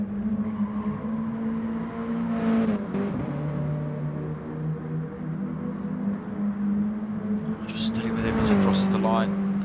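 Mini Cooper Cup race car climbing a hill toward the final corner in Sardinia, its engine droning steadily and shifting pitch, with a commentator talking over it throughout and a brief high squeal near the end.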